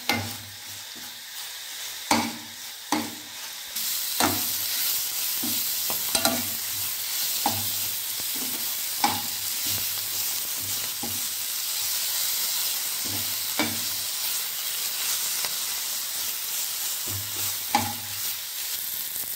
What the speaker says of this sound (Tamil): இன்னும் கொஞ்சம் நேரம் நல்லா வதக்கிக்கலாம்